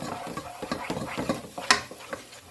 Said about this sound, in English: I'm going to go ahead and get that stirred up in here